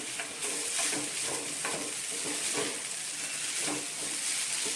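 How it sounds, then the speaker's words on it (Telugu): Vegetable noodles are stirred gently in a hot pan as a steady soft sizzle continues, with regular light scraping strokes of a spatula about every half second. "నూడిల్స్ బ్రేక్ అవ్వకుండా మెల్లగా కలుపుకోవాలి"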